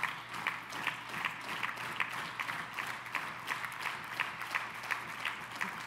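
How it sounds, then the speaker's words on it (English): Steady applause from an audience at a motivational talk, many hands clapping together in a continuous, moderately loud patter with a faint rhythmic pulse, no voices over it. "let's get a clap going for him"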